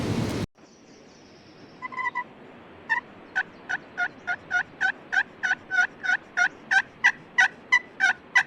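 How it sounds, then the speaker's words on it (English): A series of evenly spaced calls, roughly fifteen in a row after a few scattered early notes, rings out clearly at moderate distance outdoors in spring Oregon woods, fitting wild turkeys gobbling. "we spotted some turkeys from the road"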